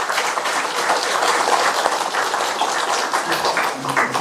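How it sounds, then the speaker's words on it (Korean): Audience applause at a Buddhist dharma ceremony marking a book launch on modern Busan Buddhism, welcoming the abbot of Beomeosa temple to the front; dense, steady clapping fills the hall throughout, with no talk over it. "여러분 큰 박수로 정호 스님을 앞으로 모시겠습니다."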